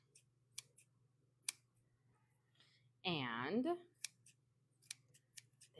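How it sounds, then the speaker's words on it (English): Kitchen scissors snip through food while pretzels are prepared, giving several sharp, brief clicks spread across the stretch, with a short spoken phrase in the middle. "When in doubt, just get out your good old non-kitchen shear scissors."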